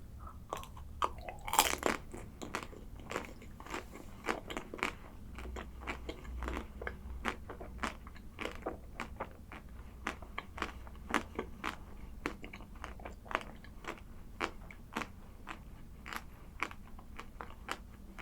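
Small TICO chocolate and vanilla ice cream bites are chewed up close, a long run of crisp, regular crunching bites with steady rhythm and no talking, fairly quiet overall.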